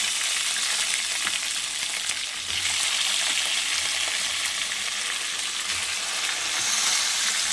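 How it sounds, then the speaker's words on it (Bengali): Eggplant pieces fry in hot oil tempered with nigella seeds in a pan, a loud, continuous bright sizzle that swells slightly near the end, with no talking. "বেগুনগুলোকে আমি একটু ভেজে নেব,"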